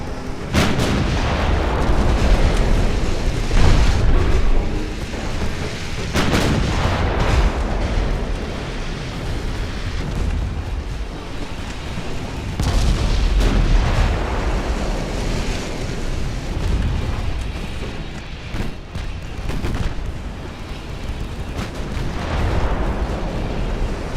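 11-inch naval guns fire in a war video game: deep, booming salvos land every few seconds over a constant rumbling wash like rough sea, loud and heavy, with no talking.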